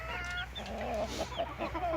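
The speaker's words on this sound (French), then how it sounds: "pour ceux qui aiment les petits Pékins, là j'en ai là. Un coq, une poule." Pekin bantam chickens, a rooster and a hen, give soft, scattered clucks close by in a poultry yard. Faint background noise hangs under the calls, and no one speaks.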